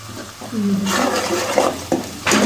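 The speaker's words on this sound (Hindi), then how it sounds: "मसाला हमारा थोड़ा नमक मिर्च थोड़ी फ्राई होती है तो इसमें थोड़ा सा पानी ऐड करेंगे" Water is poured into a pan of frying spices, salt and chilli for chana dal, and a rising hiss and sizzle bursts up. It is loud and close, with a couple of sharp spatters near the end.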